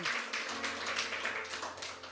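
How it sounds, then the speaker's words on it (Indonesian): A church congregation claps in a steady, quick rhythm during a sermon, the clapping faint and somewhat distant, with no talking over it. "Tepuk tangan buat Tuhan kita."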